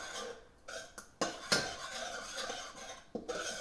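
A spoon stirs simmering blood orange hot pepper sauce in a pot, with sharp clinks and knocks against the metal between quieter scraping, fairly close and without talk.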